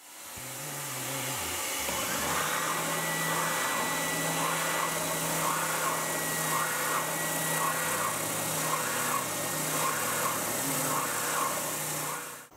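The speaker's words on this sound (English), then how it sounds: "Let's crank up the vacuum cleaner and get some work done on this body." A steady mechanical whine and whir hums continuously from a spindle sander running alongside a vacuum cleaner while shaping a custom guitar body, with a faint repeating pulse throughout.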